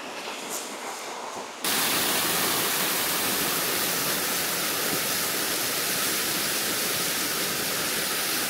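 A waterfall in a small Thai village roars loud and steady, a dense unbroken rush that sets in abruptly after a quieter opening moment and then holds constant, with no voices heard.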